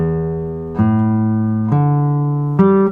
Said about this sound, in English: we're going to use our I finger, and we're going to play all the strings one at a time like this